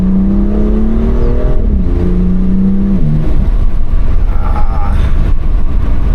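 A BMW M2 Competition (F87) pulls hard through the gears, its loud exhaust note dipping at each shift and then rising again, with faint burbles and a voice briefly audible under the engine.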